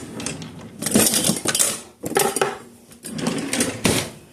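A metal spoon is pulled from a cutlery drawer in a home kitchen, giving a run of loud, close jangling clatters of silverware with brief pauses between them. No one speaks.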